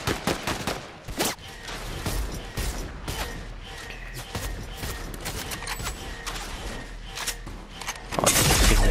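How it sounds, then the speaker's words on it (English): Fortnite gunfire in rapid bursts, sharp close cracks and volleys repeating throughout, with a heavier burst at the end and occasional game sounds between shots. "Stop shooting me, you doofus."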